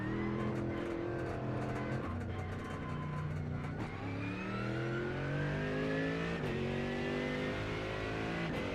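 A race car engine in a sim racing video game revs steadily, its pitch climbing and dropping through repeated gear shifts. The sound is continuous and fairly prominent, with only faint hints of anything else.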